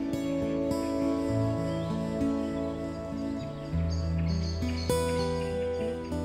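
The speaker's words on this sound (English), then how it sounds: "This is the start of the dawn chorus." Songbirds sing a dawn chorus beside a canal boat, several overlapping tonal songs and chirps running steadily throughout, clear and close with no talking.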